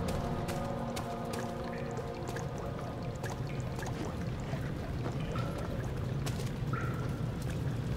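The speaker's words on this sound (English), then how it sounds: "The water is too deep to traverse safely." Water pours and drips steadily in a flooded area of the video game Amnesia, making a continuous, dense wash of splashing and trickling with low rumbling ambience throughout and no talking.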